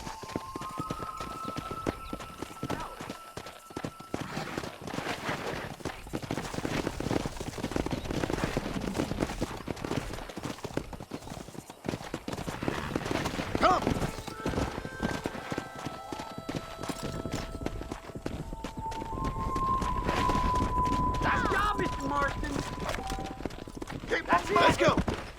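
Horse hooves clip-clop at a steady gallop throughout a cattle-driving scene in the Red Dead Redemption video game, close and rhythmic, under intermittent voices and occasional musical tones.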